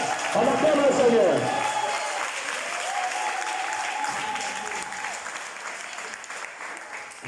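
A church congregation applauds and cheers in acclamation of the Lord, a dense wash of clapping strongest at the start and easing to steady applause, with voices calling out and a sustained sung or shouted tone through the middle.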